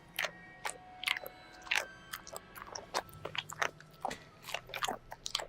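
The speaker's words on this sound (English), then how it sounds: "Oh my god, stop chewing so loud!" Loud open-mouthed chewing in the Tiny Bunny video game, wet crunching bites and smacks repeating in an irregular rhythm, close and isolated against a quiet background.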